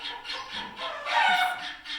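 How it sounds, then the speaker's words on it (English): Rapid, high-pitched squeaks and squeals from a guinea pig pulse in quick bursts, faint and somewhat distant. "that's my guinea, Flash, in the background, that noise you hear."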